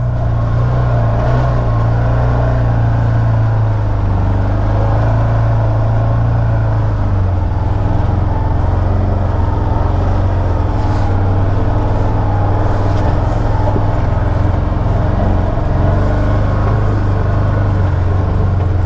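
2019 Can-Am Maverick Sport 1000 side-by-side crawling along a muddy trail in low gear four-wheel drive, a loud steady engine drone close up that shifts pitch slightly partway through.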